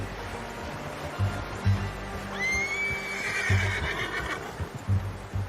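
A horse in Red Dead Redemption 2 gives one shrill, wavering whinny in the middle, with soft hoof thuds and low game ambience around it.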